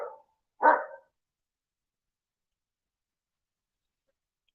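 A dog barks twice in quick succession, short sharp yaps near the mic, followed by a long quiet gap and a brief clipped sound at the very end; no one talks over it.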